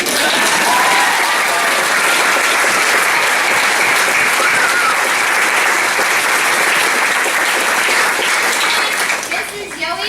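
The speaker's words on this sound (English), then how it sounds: "we'll do another round of clapping now if you want" A theater audience claps at a curtain call, dense and loud sustained applause that fills the whole stretch before thinning slightly at the end, with a few voices mixed in.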